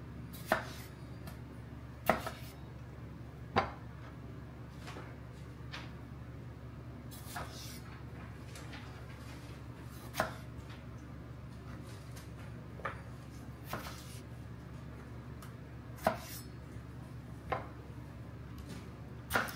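A knife chops the bottoms off homegrown tomatoes on a board, making sharp, irregular thuds spaced a second or more apart against a quiet room hum.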